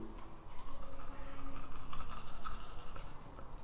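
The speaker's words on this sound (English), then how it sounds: "Let's start our brushing." A Colgate Wisp Max Fresh mini disposable toothbrush with a very small head, used without water, scrubs slowly across the teeth with a steady soft bristly scratching close by, and no voice is heard.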